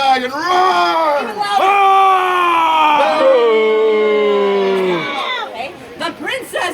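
A crowd at a Renaissance festival performance roars together in imitation of a dragon, a long, loud, drawn-out group howl of many voices that rises, sustains for several seconds, then breaks off into scattered voices.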